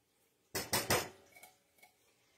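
Metal and wooden kitchen utensils clatter as someone rummages through them for a spatula or scraper: three loud close clanks in quick succession, then a few fainter clinks.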